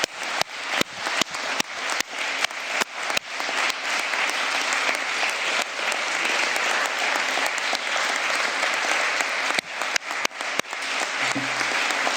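At a formal results ceremony for a French bar's Conférence du stage, a packed hall gives a long, unbroken round of applause. The clapping is dense and steady with scattered louder claps, and no voice is heard over it.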